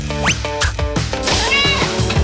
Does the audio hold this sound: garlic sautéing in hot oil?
no